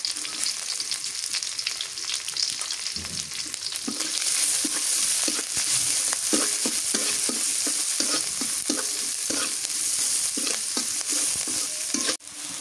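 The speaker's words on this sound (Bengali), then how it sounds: "পেঁয়াজ মরিচ ভাজা হয়ে গেছে" Sliced onions and green chilies frying in oil in a home kitchen pan, stirred continuously: a dense steady sizzle with rhythmic scraping strokes and a sharp knock near the end.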